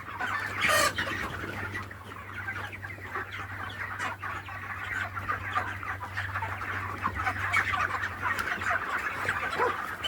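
Chickens cluck steadily in a poultry farm shed in West Bengal, a dense flock chattering continuously with a low mechanical hum underneath and one louder call near the start.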